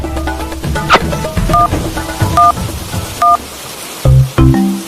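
Phone keypad tones beep one at a time in an animated cartoon, a short irregular series of loud button presses over a low background with a few brief noises.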